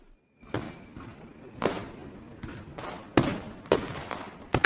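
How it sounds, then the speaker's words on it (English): Celebration fireworks crackle and guns bang as a storybook sound effect: a series of sharp, loud bursts and thuds spaced irregularly, with fizzing crackle between the blasts. "Fireworks crackled and guns banged"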